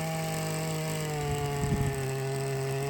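A diesel-powered machine digs pits for dragon fruit poles on a farm, its engine droning in a steady close tone with a brief rougher surge of effort near the middle.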